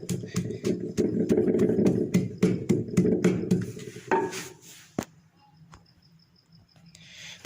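An electric grinder finely grinds almonds and other ingredients with a loud, steady mechanical whir and regular clicks for about four seconds, then stops with a sharp knock and leaves quiet room sound.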